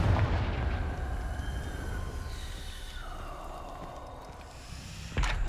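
Confringo spell blast in the game Hogwarts Legacy: a deep, rumbling explosion that fades slowly, with a sharp fresh burst near the end.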